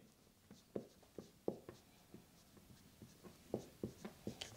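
A pen scratching on paper as someone writes out a geometry proof, soft close strokes and taps in an uneven rhythm, quiet against a faint room hush.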